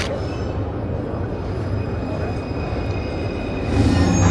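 Trams roll past on rails as a continuous loud rumble with a faint high squeal, swelling louder near the end, set against street noise and a voice speaking.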